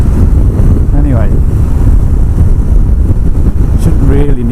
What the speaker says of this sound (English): So it's a bit windy, but that's nothing to do with the bike.